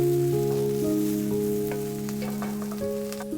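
Red onions sauté in avocado oil in a pan, giving a steady, even sizzle throughout with a sustained low tonal hum running beneath it.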